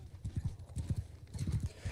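A stolen horse's hooves clip-clop at a steady trotting rhythm in the Mount & Blade: Bannerlord video game, moderately close and fairly quiet with no one speaking.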